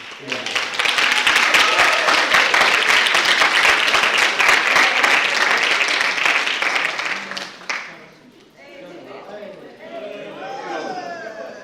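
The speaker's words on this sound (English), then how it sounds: "I just want to give you a round of applause" A school band's end-of-year concert crowd breaks into loud, dense applause for about eight seconds, then the clapping fades and a voice starts speaking.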